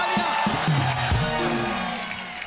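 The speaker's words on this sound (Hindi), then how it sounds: "जोरदार तालियां" A studio audience cheers and whoops loudly in a dense, continuous wash of noise with applause underneath, on a Hindi comedy show.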